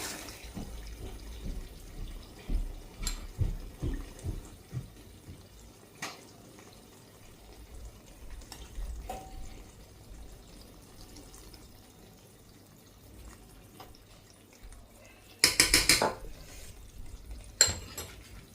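Hot oil from a pan of Sri Lankan wheat-flour muscat is scooped with a ladle into a bowl, heard as faint scraping, soft clinks and pouring, with a louder clatter of metal toward the end.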